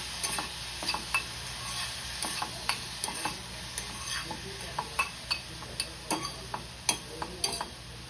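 Vegetables being stirred and mixed in a pan, with a spoon scraping and tapping the metal about every half second over a soft, continuous frying sizzle close by.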